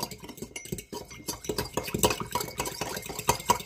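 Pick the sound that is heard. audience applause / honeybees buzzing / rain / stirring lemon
stirring lemon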